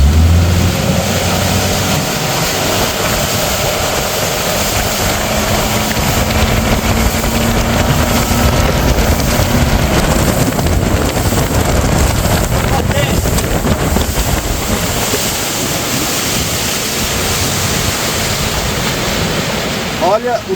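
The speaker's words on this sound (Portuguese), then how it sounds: "Quando eu parar de acelerar, eu vou falar e vocês vão ver o tanto que o barco vai pra frente" A motorboat surges to 30 miles per hour on open water, a continuous loud roar of engine, hull spray and heavy wind buffeting the microphone throughout, with someone speaking under the noise.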